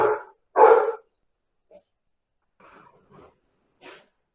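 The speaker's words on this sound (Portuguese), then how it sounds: "os cachorros estão latindo aqui" Dogs bark in short sharp bursts: two loud barks close by at the start, then fainter, more scattered barks and yips after a pause.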